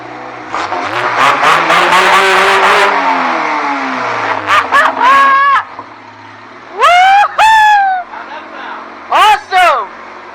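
A 1987 Pontiac Fiero GT with a K20 engine swap revs and accelerates hard in rising bursts with strong intake noise, loud and close.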